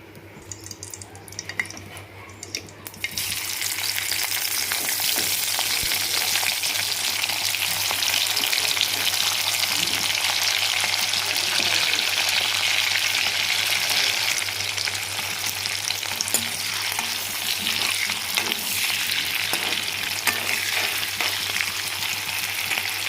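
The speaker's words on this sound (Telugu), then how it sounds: "వీటిని నూనెలో వేయించాలి ఇప్పుడు" Dry fish (small fish, washed) hit hot oil with a brief clatter, then a loud, continuous frying sizzle carries on steadily for about twenty seconds with no speech.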